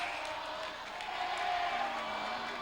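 Basketball crowd at a boys varsity high school game, a sustained, fairly loud roar of cheering voices filling the gym steadily throughout.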